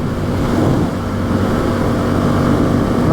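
A rebuilt Yamaha FZ-07 motorcycle engine drones steadily while riding, loud and close with constant wind rush and a fairly even throttle throughout.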